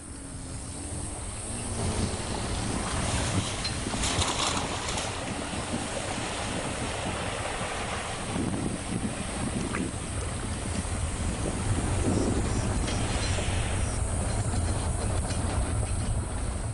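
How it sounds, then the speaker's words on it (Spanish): A vehicle with a waterproofed engine fords a river in Botswana, with a continuous loud rush and churn of water and a low engine rumble, close and steady throughout without talk. "Ahora que el motor está impermeabilizado, podemos cruzar el río."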